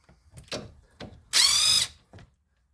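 A power driver whirs in a short, loud burst, removing T45 Torx bolts from the front brake caliper of a 2006 Chrysler Town & Country, preceded by a few knocks and clunks of tools on metal.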